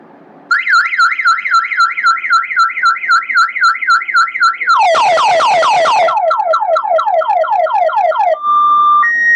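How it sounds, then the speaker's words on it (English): A loud remotely triggered Energizer alarm blares nearby, cycling through several siren patterns in turn: rising whoops, a rapid warble, then falling sweeps, before a steady tone. "from your phone, you can also trigger the alarm remotely."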